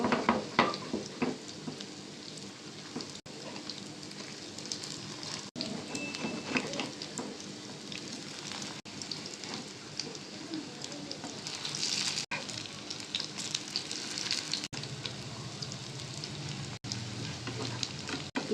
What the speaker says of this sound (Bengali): এই পিঠও এরকম করে আমি ভেজে নেব।